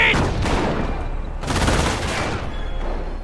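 Machine guns in the World War II strategy game Company of Heroes fire sustained, overlapping bursts that roar and crackle densely without a break, loud and close.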